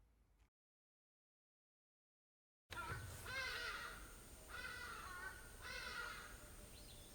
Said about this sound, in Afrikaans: Hadida.